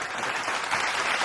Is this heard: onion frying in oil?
no